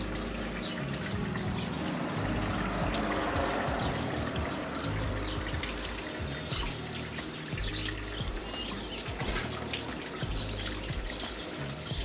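Water gushes steadily through a 2008 Mitsubishi Lancer's radiator hose and thermostat housing during a coolant flush, a continuous close rushing hiss with no pauses and no talk.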